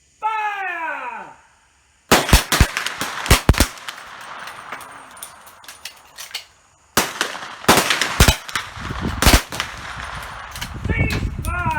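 Several .310 Martini Cadet rifles fire at an outdoor military trainer shoot, sharp loud cracks in ragged volleys with echoing tails, separated by pauses and brief shouted commands.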